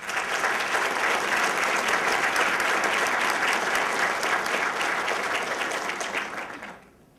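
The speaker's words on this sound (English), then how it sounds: "Please join me in applauding everyone's efforts." An audience at a county government State of the County address gives steady, dense applause for several seconds, a full crowd clapping that fades out at the end.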